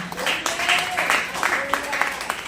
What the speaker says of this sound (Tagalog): So malakas na palakpak sa Panginoon.